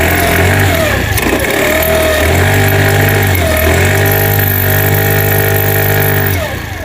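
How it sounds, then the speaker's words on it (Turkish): A fuel-injected 50cc motorcycle engine with a fault runs steadily up close, a loud constant drone with a harsh scraping rasp, the pitch dipping and rising a few times before it eases off at the end. "şimdi motorumuz böyle bir sesler çıkarmaya başladı"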